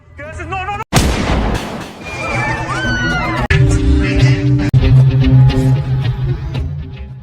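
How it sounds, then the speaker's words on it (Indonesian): A gunshot in a film scene where an informant is shot dead in a cafe, a sharp loud crack near the start followed by further sharp cracks amid dramatic music and sound effects. "tiba-tiba ditembak mati oleh anggota DFS saat sedang berada di sebuah kafe"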